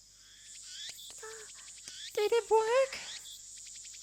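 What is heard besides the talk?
cicadas chirping, from a video game (Steins;Gate)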